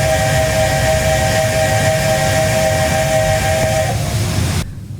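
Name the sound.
Flying Scotsman steam locomotive secondary whistle and safety valves, Train Simulator Classic video game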